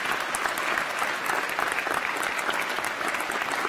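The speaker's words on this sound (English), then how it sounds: "would you give a round of applause" A graduation ceremony audience for a School of Computing, Science and Engineering gives dense, sustained applause, with many hands clapping evenly throughout.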